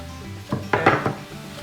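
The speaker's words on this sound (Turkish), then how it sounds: "Mantarlar da güzelce kavrulana kadar sotelemeye devam edeceğim." Mushrooms being sautéed in a pan for quesadillas: a few quick clinks and scrapes of a utensil against the pan over a faint background sizzle, close by and brief.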